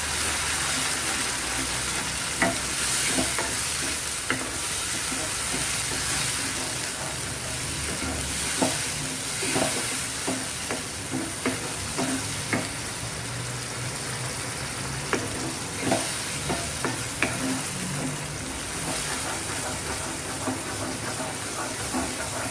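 Tomato puree fries in egg masala with a steady sizzle, broken by scattered scraping clicks of a spoon stirring the pan.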